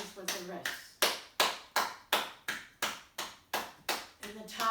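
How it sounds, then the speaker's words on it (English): Several people clap their hands in a steady, evenly spaced rhythm during a yoga class, about ten sharp, close claps ringing out in a row with no talking over them. "even as you clap your hands, just notice what happens with the wrists"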